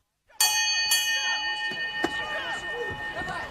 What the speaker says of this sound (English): A bell rang, and the fight began.